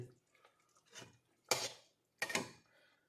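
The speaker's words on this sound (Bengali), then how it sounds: "আমার খাবারের প্লেট আমি খাবার বেড়ে নেব" A spoon scooping rice onto a food plate, giving a few soft scrapes followed by two louder clinks of metal on the dish, spaced apart and heard close up in a quiet room.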